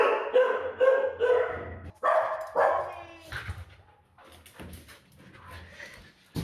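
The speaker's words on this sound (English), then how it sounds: "Doggies." Dogs bark in a run of loud, close woofs and yips, followed by softer whimpering and scattered noise.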